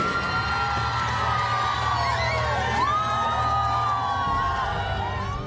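Parents cheer in victory as the padlocked gate of an elementary school in Depok is forced open, a loud, continuous crowd of shouts and whoops with rising and falling voices throughout.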